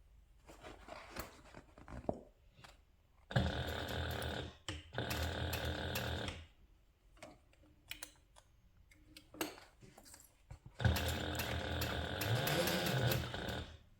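A home sewing machine stitches a handbag seam at a short stitch length, running in two longer bursts and a final burst with short pauses between, a dense mechanical whirring rattle heard close with faint handling sounds in the gaps.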